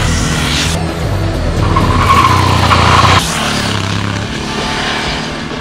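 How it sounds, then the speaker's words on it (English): Ducati Hypermotard 1100 motorcycle backed sideways into a corner, loud engine roar with a long tire skid and squeal, the revs shifting as it slides past close by. "Backing it in sideways, the Hypermotard's got to be the one for giggle factor."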